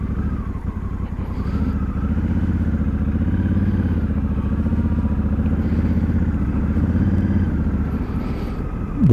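Honda Africa Twin motorcycle riding on a gravel road, its engine a steady, loud mid-range drone with continuous road rumble and light clatter throughout, no talking.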